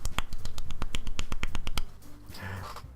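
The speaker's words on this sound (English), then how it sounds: "Sayori finishes, and we applaud." Sharp, rapid claps from the Doki Doki Literature Club video game ring out close and dry in a quick burst of about a dozen hits, then fade into quiet background tones.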